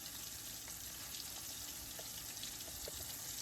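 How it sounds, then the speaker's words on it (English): Shrimp fry in hot oil for po'boys with a faint, steady sizzling hiss and soft crackle that runs unbroken throughout, quiet and with no talking. "I'm gonna let those fry up and I'll flip them over"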